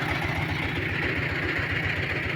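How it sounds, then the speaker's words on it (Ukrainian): Tractor engine labouring steadily while pulling a homemade cultivator across a 3.3-hectare field of green weeds after soybeans, a continuous loud, even drone with low rumble and no pauses. "Трактор йде, не буду брехати, трактор йде важко"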